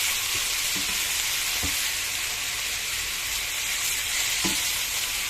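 Grated boiled beetroot fries in a pan for a coconut beet bhaja, giving a dense, steady, close sizzle with a few soft stirring taps and scrapes and no voices.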